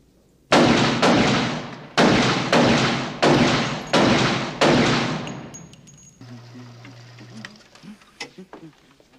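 Pistol gunshots in a film scene at a shooting range, five loud, sharp reports spaced evenly about half a second to a second apart, then a lower hum and scattered faint clicks.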